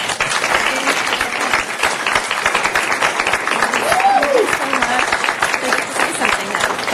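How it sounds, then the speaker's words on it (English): A council meeting audience applauds a retiring staff member with steady, dense clapping that holds throughout, with a voice briefly rising over it partway through. "give her a great round of applause"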